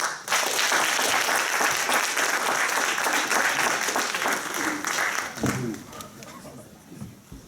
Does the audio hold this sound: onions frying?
no